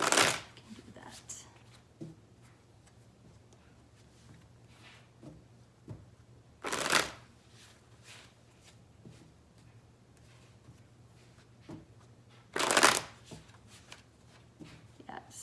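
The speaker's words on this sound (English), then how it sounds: "Want me to shuffle a little bit?" Tarot cards being shuffled in short bursts: a loud riffle at the start, two more around the middle and end, with softer card handling and quiet room tone between.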